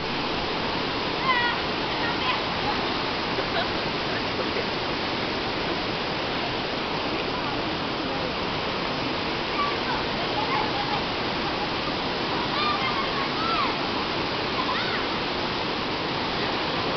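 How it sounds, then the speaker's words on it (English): Tawangmangu waterfall near Solo, Central Java, roaring as a steady, dense wash of falling water that stays constant and loud throughout, with no voices over it. "Tawang Mangu Waterfall near Solo, Central Java. What an awesome sight."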